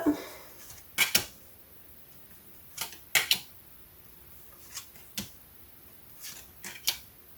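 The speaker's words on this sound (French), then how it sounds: "Donc je vais commencer à disposer les cartes." Tarot cards laid out one by one on a table give a few soft, sharp slaps and clicks at irregular intervals, quiet and close, with near silence between them.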